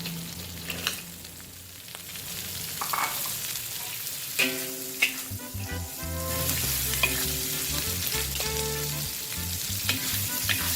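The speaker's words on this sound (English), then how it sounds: "The kitchen is fragrant with the frying garlic and dried prawns." Steady oil sizzle of garlic and dried prawns frying in a pan, with occasional clinks and scrapes of a utensil stirring, close and continuous, with faint tonal music underneath.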